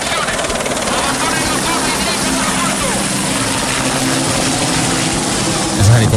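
Helicopter rotor and engine noise from a played video, a steady broadband whir filling the clip at fairly loud level, with a low thump near the end.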